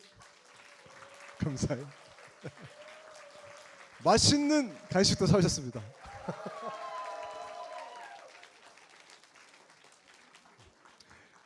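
A church youth congregation claps briefly at a worship service, a short moderate burst of applause between stretches of someone speaking into a microphone.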